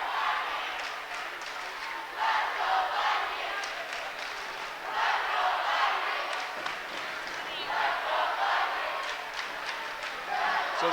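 A home Viking crowd at a varsity boys basketball game between Mills and Capuchino cheers and claps in rising, swelling bursts, moderately distant in a gym.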